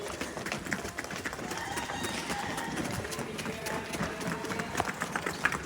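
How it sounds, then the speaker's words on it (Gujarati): A running bull's hooves beat the ground in quick, even thuds at a cattle shelter, close by and steady, while people talk loudly over it. "ખરીનું સાઉન્ડ કેમ હે? ટક ટક ટક ટક ટક ટક ટક ટક"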